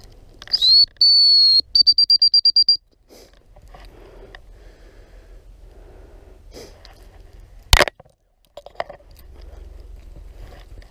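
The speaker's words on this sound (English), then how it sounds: "Hunt whistle him when he gets there." A gundog trainer blows a hunt whistle for a retriever named Scout during a retrieve: one long shrill tone, then a rapid string of short sharp pips, loud and close, followed by quiet outdoor ambience.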